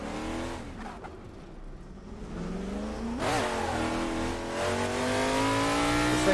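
A Shelby Daytona in a racing game revs hard with its rear wheels spinning loose, the engine note climbing through long gears, dipping briefly, then rising again to a loud, sustained roar.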